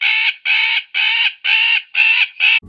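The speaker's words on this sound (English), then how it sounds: "The first example is an alarm or distress call produced by a magpie bird." Six harsh, chattering magpie alarm calls in a steady rhythm, loud and close, each burst rasping and evenly spaced, with no other sound.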